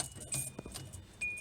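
Car keys jangling and clinking near a 2010 Hyundai Accent, a few short metallic bursts that are fairly faint and close, with no talking.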